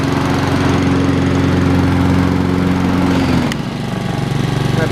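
A Honda commercial walk-behind lawn mower runs loud and close with its cutting deck engaged, a steady droning engine hum that shifts to a lower, rougher note near the end.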